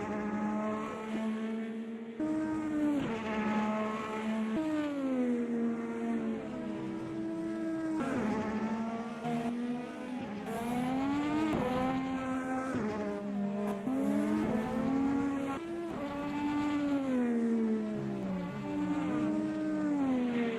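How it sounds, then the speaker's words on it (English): IndyCar race car engine in the Automobilista 2 sim racing game, a steady, loud harmonic drone that rises and falls in pitch with gear changes and revs, heard up close and alone for about twenty seconds. "My car sounds kind of quiet."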